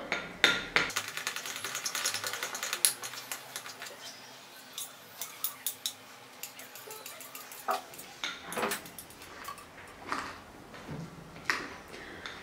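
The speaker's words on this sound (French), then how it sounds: "Et maintenant, hop, c'est reparti, on va touiller" A spoon stirs coffee grounds mixed with coconut oil in a bowl, giving a string of quiet clinks and scrapes in an irregular rhythm. They are close and fairly soft, with no one talking over them.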